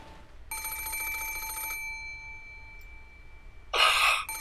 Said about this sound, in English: the piercing sound of a phone rang throughout the room